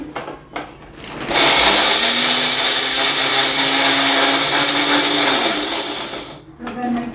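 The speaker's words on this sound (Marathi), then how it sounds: "मिरच्या आणि लसूण त्याच्यात थोडं जिरे टाकून घेते मिक्सरमध्ये फिरवून घेते" A mixer grinder whirs loudly for about five seconds as it grinds green chillies, garlic and cumin, starting abruptly after a few short taps and stopping sharply near the end.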